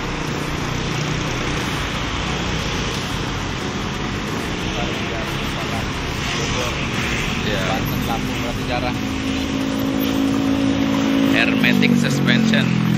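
A Mercedes-Benz tour bus idles with a steady, loud engine rumble at a roadside restaurant stop, rising slightly near the end, while someone talks over it.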